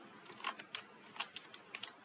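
Code being typed on a computer keyboard: a quick run of crisp, close keystrokes, eight or so taps at an uneven pace over a quiet background.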